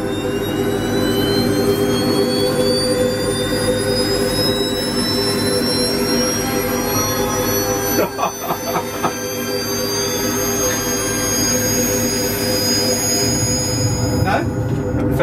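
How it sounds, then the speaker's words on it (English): A reactor starting up in a spaceship simulator game, a loud steady engine roar with a high whine rising in pitch and a few clunks partway through. "Initiate reactor start."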